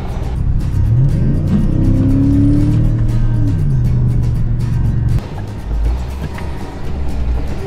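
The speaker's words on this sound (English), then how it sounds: "Got the wood truck warmed up." A wood truck's engine runs in deep snow, a loud close rumble with rising and falling revs, then a brief dip before it settles back into a steady idle.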